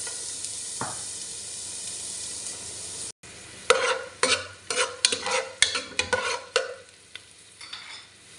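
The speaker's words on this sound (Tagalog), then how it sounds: "Magsimula na nga po tayo maggisa. Unahin na natin tong sibuyas." Onions sauté in hot oil for chicken afritada: a steady close sizzle, then a brief cut and a run of sharp, rhythmic scraping stirs over the crackling fat.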